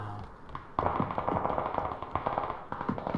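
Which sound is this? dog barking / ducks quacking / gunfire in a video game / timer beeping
gunfire in a video game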